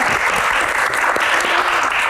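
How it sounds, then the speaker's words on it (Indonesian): Audience clapping for a recycling-centre founder at a Q&A event, a loud continuous patter of many hands held steady throughout with no one speaking over it. "tepuk tangan Mas Iqbal"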